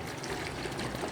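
Drinking water pours into a homemade non-alcoholic glass cleaner mixture with a steady, close trickle that runs unbroken for about a second.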